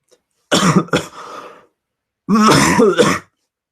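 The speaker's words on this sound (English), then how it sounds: "Sorry, I keep coughing, guys." A person nearby coughs and clears their throat loudly, in two separate rough bursts with a short silence between them.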